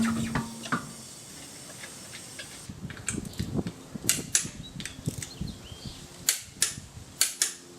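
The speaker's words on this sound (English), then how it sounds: "This is what torquing your wheels look like when you lose your 17." A torque wrench clicks as it tightens car wheel lug nuts through an extension, giving a series of sharp, close metallic clicks in irregular bursts along with ratcheting and handling noises.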